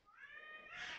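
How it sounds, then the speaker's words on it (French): A cat yowls outdoors during a cat fight, one sustained rising wail lasting about a second, faint and distant. "j'ai une bataille de chats dehors, je reviens."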